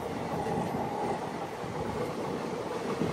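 Araku-Bangalore train running on rails on the approach to Samalkot station, a continuous steady rumble of wheels and carriages with soft clickety-clack, fairly quiet and even, with no talking.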